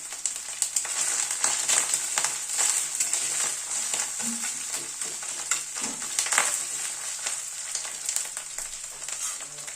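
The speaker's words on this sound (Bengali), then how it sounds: "আদা বাটাটা কাঁচা লঙ্কাটা একটু মিনিট খানেক একটু নাড়াচাড়া করে নিলাম" Ginger paste and halved green chillies are stir-fried in a pan for a cabbage curry, giving a close, continuous crackling sizzle broken by repeated scraping strokes of a spatula, with no talking.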